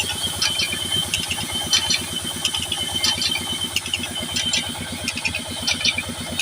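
A new tractor engine powers a wood-cutting saw machine at a sawmill, chugging loud and close in a fast, steady rhythm with sharp mechanical ticks on top.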